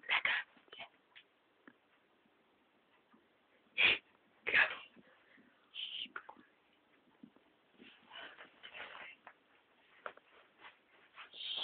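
A dog whimpering and yipping in short, scattered bursts, some sharp and fairly close, with quieter whines and snuffles between them in an otherwise quiet room.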